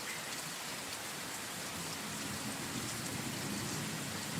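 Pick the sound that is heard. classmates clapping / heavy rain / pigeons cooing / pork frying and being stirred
heavy rain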